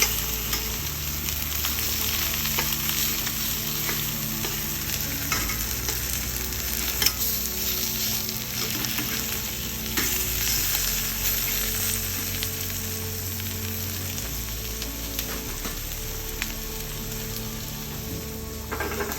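Prawns sizzle steadily in a hot frying pan as they are turned, a continuous loud crackle with small scraping and stirring noises throughout, no voices.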